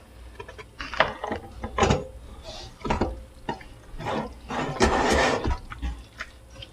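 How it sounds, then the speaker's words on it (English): A spoon stirs cafeteria-style spaghetti in a pot, giving wet, irregular squelches and clacks that come in bursts at close range. "now we got to stir and stir and stir"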